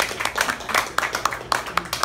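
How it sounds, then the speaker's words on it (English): A small audience gives a brief round of applause at the close of an evening talk, scattered claps with irregular sharp peaks at moderate level. "let's give them a round of applause"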